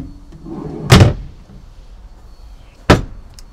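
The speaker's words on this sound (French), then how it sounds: "et les tiroirs à couverts." Cutlery drawers in the kitchen of a Quicksilver Activ 855 Cruiser motorboat are shut, giving two sharp, close thuds about two seconds apart over quiet background noise, with no talking.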